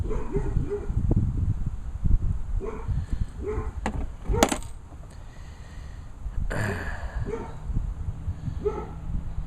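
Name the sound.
dog barking while chasing cats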